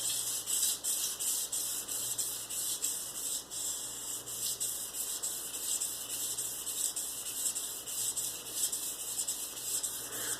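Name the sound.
sharpening an axe on sandpaper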